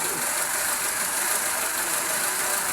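A Honda Civic engine misfires and shakes at idle, heard as a steady, dense mechanical hum and hiss that stays close and even throughout.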